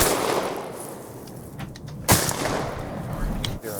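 A single sharp gunshot cracks out partway through an outdoor hunt, close and loud over a steady wind-like rush of background noise.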